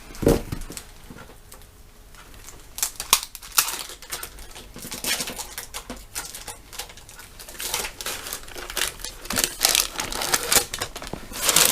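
Paper wrappers are peeled off ice cream sandwiches, giving close, irregular crinkling and tearing rustles that come in bursts over several seconds.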